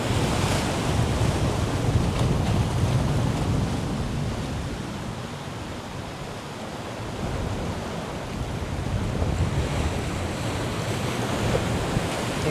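Sea waves roll and crash steadily at Dona Paula beach in Goa, a continuous broad roar of surf mixed with gusting wind buffeting the microphone, with no voices.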